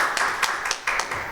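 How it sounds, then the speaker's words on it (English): Scattered hand clapping from a small audience at a Gresham Area Chamber event in a Japanese garden, a handful of sharp distinct claps spaced irregularly rather than a full ovation. "Can we give them a round of applause for everything they've done?"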